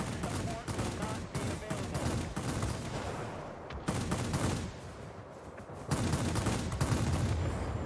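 Aircraft machine guns fire in World of Warplanes, with dense rattling bursts of rapid shots from the Tachikawa Ki-94-I. The bursts are loud and continuous, pausing briefly and then resuming.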